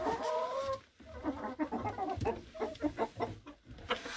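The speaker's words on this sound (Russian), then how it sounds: "Петухов полно." Chickens and roosters in a winter coop give a busy run of clucks and short squawks, close and fairly loud, with a brief pause near the start.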